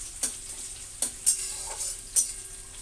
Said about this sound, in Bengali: এখানে আমি একটু ব্রাস্তা ভেজে নিচ্ছি